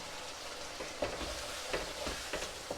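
Chicken karahi fries in hot oil with ground garam masala, giving a steady close sizzle with a few soft crackles and pops scattered through it.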